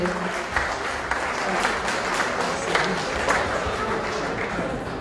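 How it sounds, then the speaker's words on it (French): Loud, sustained applause fills a hall at an evening presentation event for the Guide Africain 2017. Many hands clap densely at a steady level throughout, with no speech on top. "Un grand applaudissement s'il vous plaît."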